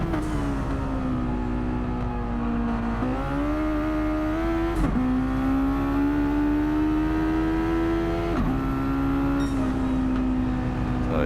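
A Mazda Roadster in Gran Turismo 7 racing at Bathurst, its small engine revving hard and loud, holding high pitch with quick dips at each upshift, steady and close throughout.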